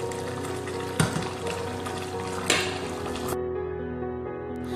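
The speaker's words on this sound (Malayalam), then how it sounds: "ഇത് നമുക്കൊന്ന് ഇളക്കി കൊടുക്കാം." Rice boiling in a pot is stirred, with two sharp scraping knocks of the spoon against the pot over a steady low bubbling hiss, close and moderately loud.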